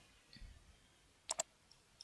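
Two quick, faint computer mouse clicks close together on a laptop, with a soft tick after them against a quiet background.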